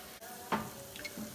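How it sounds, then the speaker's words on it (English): A spoon stirs spice paste for fresh chorizo, mixed with a little water in a hot pan, giving a brief scrape and gentle sizzle at a quiet, close level. "stir to combine"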